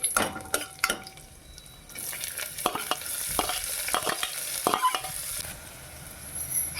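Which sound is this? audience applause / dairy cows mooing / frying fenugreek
frying fenugreek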